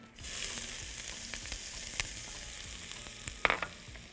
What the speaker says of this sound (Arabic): طب اشوح الكوسه ازاي شويه شويه زيت صغيرين بصلايه وسط كده مش كبيره قوي